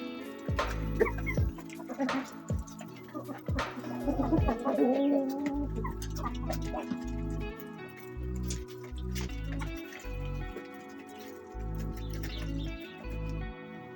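Laying hens cluck and coo around their feed, mixed with bird chatter and a steady rhythmic thumping pattern throughout, fairly close and continuous.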